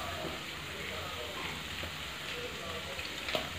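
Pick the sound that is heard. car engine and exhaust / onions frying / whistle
onions frying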